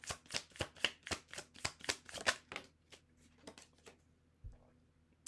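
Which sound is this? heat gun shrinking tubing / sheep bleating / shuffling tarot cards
shuffling tarot cards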